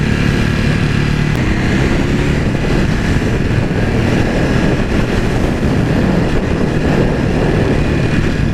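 Loud, steady Ducati Hypermotard 950 RVE engine drone while riding over bumpy road, a rough continuous roar with wind noise and no talking.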